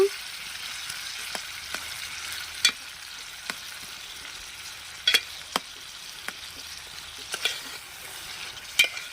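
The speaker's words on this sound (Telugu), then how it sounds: "చింతపండు కూడా అయితే టమాటాల్లో వేసుకుంటున్నానండి. ఇది మొత్తం ఒకసారి మగ్గేటట్టు అయితే తిప్పుకుంటున్నాను." Tomatoes and tamarind cook in a pan for a dried red chilli tomato chutney, with a soft continuous sizzle under sharp, irregular scrapes and taps of a spoon stirring, close by and with no voices.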